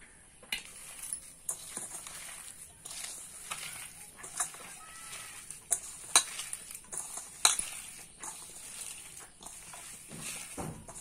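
Soybean kofta mixture kneaded by hand with salt and chili powder, giving soft, irregular squelching and pressing sounds with scattered sharp taps, close up and fairly quiet, with no talking.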